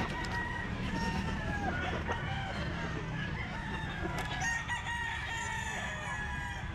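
Roosters crowing at a pet market, with several overlapping crows and clucks from caged birds near and farther off, under a steady background of market bustle.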